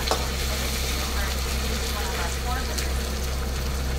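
Garlic and chili paste frying in a pan, a dense continuous sizzle under steady low hum as it is mixed with a spoon, close up, with faint talk in the background.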